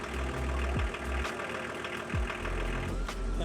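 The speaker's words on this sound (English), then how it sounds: "Do you recognise that engine note?" A MAN four-wheel-drive van idles up close at a campsite, a steady low diesel rumble with a couple of brief revving swells, with no talk over it.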